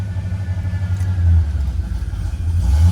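A 1972 Oldsmobile Cutlass engine idles with a low, steady rumble as the AC compressor kicks on, a faint whine riding above it, close and continuous without voices.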